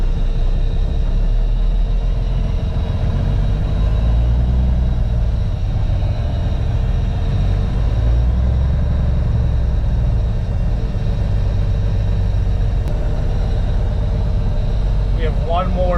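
Diesel engine of an International 4300 Transtar truck warming up, a loud, steady low rumble of idling that holds evenly throughout, with a faint brief tone near the end.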